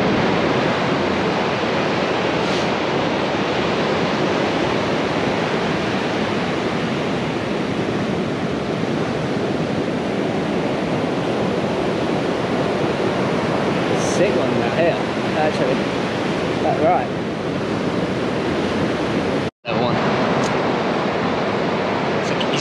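Ocean waves break on a Costa Rica beach at Santa Teresa in a constant loud wash of surf with wind noise, with a brief dropout near the end.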